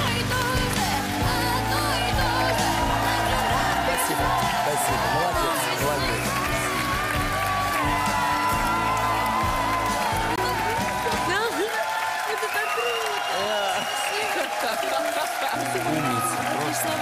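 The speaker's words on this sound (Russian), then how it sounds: "Аплодисменты." A studio audience on The Voice stage applauds with cheering, the clapping loud and sustained throughout while music plays beneath it for much of the time and people talk over it.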